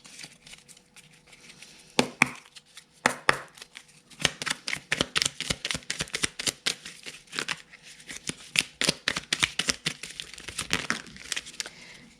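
Angel oracle cards being shuffled by hand in a quiet room, a run of crisp, papery riffles and taps that starts sparse and then comes in dense, irregular bursts, close and moderately loud.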